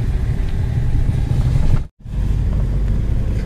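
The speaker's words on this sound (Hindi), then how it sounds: "इस गाड़ी में ड्राइव करते हैं" An old family car, driven for many years and now on its last drive around Nainital, rumbles steadily from inside the cabin with deep engine and road noise, cut by one brief near-silent dropout midway.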